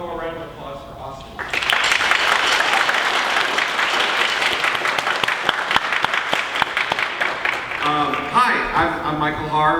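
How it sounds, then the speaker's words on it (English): Audience applause at a school jazz band concert, breaking out after a moment of talk and swelling into dense, sustained clapping before voices return near the end. "About one more round of applause for Austin."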